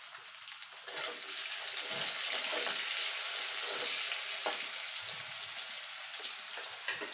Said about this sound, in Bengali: আলুটা ভাজা হতে থাক